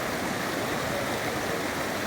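The Tapkhola river in Khotang rushes and splashes in a steady, loud broadband wash of flowing water, continuous throughout with no voices.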